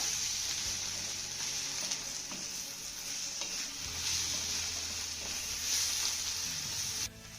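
Cooked grated bitter gourd is stirred up from the bottom of a pan, with a continuous soft sizzle and gentle scraping close by and a few faint spoon taps, with no one talking.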